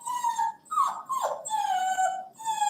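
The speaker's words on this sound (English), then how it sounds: "when I'm bathing a litter of puppies, I have 2 different shampoos" A litter of puppies whimpering in high, thin whines that rise and fall in a near, close-up string of cries, heard alone.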